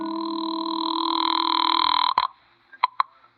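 A telephone sound effect from a 1950 old-time radio detective drama: a steady, buzzing line tone runs for about two seconds and cuts off with a sharp click, followed by two brief clicks. No one speaks.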